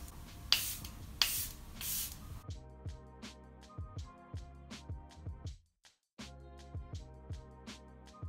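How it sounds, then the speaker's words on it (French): Charlotte Tilbury setting spray misted onto a face in three short, hissy bursts, followed by a stretch of soft rhythmic clicks and taps with a brief silent gap. "Je vais réutiliser le spray de Charlotte Tilbury pour rendre mon visage moins poudreux."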